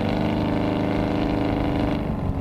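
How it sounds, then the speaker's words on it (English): A 1968 AMC AMX exhaust burbles loud and close, a steady deep rumble with a slight pulsing throb throughout the short stretch. "I love that exhaust."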